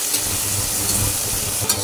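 Tomato goes into a pan of frying onion, mustard seeds, cumin and curry leaves with a loud, steady hiss and crackle, alone and close.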